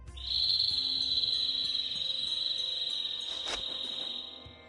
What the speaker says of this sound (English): A bird? In this desert? It sounds close.